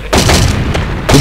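Deep booming blasts from dynamite going off in an Angry Birds video game level, a loud heavy rumble lasting about a second and followed by another thump at the end.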